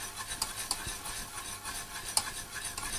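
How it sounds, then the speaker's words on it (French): A utensil stirring caramel with butter in a pan, soft scraping and rubbing strokes with a few sharper clicks against the pan, close and steady with no talk. "Je mélange avec du beurre, que je vais ensuite couler."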